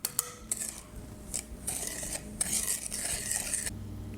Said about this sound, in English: Now we're gonna add the sugar. Now let's mix it up.